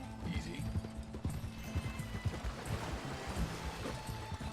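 Horse hooves clip-clop in Red Dead Redemption 2, a steady trotting rhythm close up, with an occasional whinny among the footfalls and no talking.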